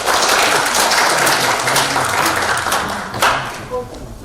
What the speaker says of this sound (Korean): 논문 개발을 위해 열심히 노력한 3조에게 큰 박수 부탁드립니다.